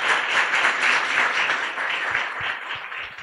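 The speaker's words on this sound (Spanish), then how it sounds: "para los cuales pido un aplauso" Audience applause at a formal talk, a sustained mass of clapping that holds steady and then slowly thins out toward the end.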